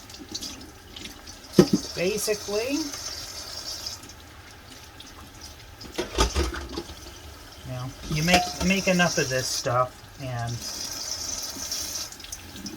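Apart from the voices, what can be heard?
water running from the tap, being warmed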